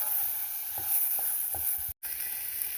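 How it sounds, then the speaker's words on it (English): Onion and mushrooms sauteing in a pan, giving a steady soft sizzle with a few faint utensil taps and a brief dropout near the end. "We're going to saute it with our mushrooms until it's translucent."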